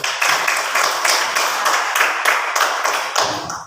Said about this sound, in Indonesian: mari kita beri aplaus untuk kelompok 1